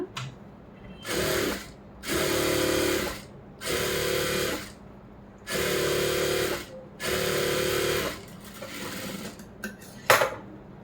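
A sewing machine stitches a lining blouse in five distinct bursts of a second or so each, separated by short pauses. It is close and clear, with a brief clack near the end and no talk.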